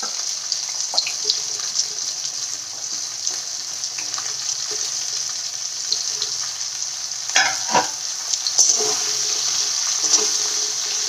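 Pumpkin pieces sizzle and fry in a pan for a vegetarian chhyachra, a steady bright hiss with occasional stirring scrapes and clinks, close and fairly loud.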